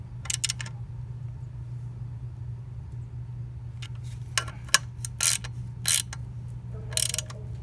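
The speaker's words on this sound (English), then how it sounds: "Now I'm gonna torque it down," Torque wrench tightening an Akrapovic exhaust bolt on a Honda CB300R motorcycle, giving several short, sharp ratcheting clicks in separate bursts over a steady low hum, fairly close and moderately loud.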